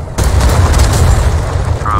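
A ship's cannon fires in the game Atlas, a loud, deep boom that rolls out with a long low rumble and fills the short moment.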